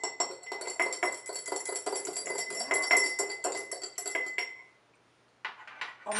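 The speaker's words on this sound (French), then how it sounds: "On mélange jusqu'à ce que l'allantoïne soit complètement dissoute." A utensil stirring floral water and allantoin in a container to dissolve it, rapid clinking and scraping against the sides for several seconds, then a pause and a few more clinks, close and alone.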